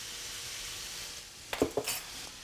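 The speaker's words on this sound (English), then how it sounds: "when your onions start to sizzle" Onions with salt frying in a pan give a soft continuous sizzle, then a few sharp clatters of stirring utensils against the pan near the end.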